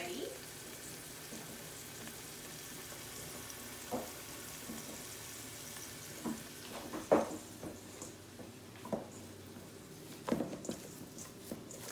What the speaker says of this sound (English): I hear my garlic sizzling on the pan over there.